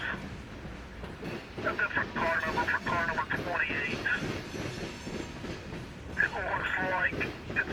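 A northbound CSX freight train rumbles across the Scioto River railroad bridge in Columbus with rhythmic clanking and rolling wheel noise, occasional metallic squeals rising above the steady roar.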